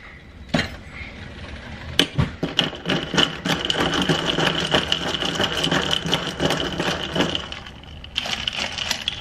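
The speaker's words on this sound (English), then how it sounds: "Gotta stir it." Coffee being stirred with creamer and almond milk, giving a steady run of quick clinks and scraping taps near the mic, with a few sharper knocks at the start and a short pause near the end.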